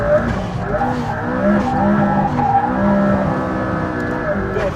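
McLaren P1 rear tyres spin and squeal continuously in second gear, a wavering high screech over the loud engine drone for the whole few seconds, with someone talking over it.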